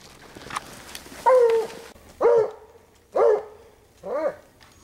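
A coon hunting dog barks on a snowy Thanksgiving night hunt, giving four loud, drawn-out howling bays at a steady pace, close by, with quiet outdoor background between them.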